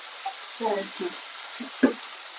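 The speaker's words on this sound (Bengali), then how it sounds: "তেলটার মধ্যে যে পেঁয়াজ দিয়েছি" Chopped onions frying in hot oil while cooking chicken chorchori, a soft continuous sizzle with a few brief stirring scrapes and clatters close by, under faint background voices.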